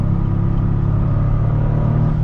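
A Toyota GR Corolla hot hatchback with turbo boost and all-wheel drive accelerates in a steady, loud, continuous low engine rumble and drone from the cabin, with no talking.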